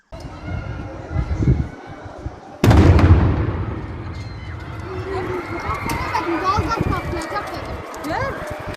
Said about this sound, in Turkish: Piknik tüpleri bomba gibi patladı.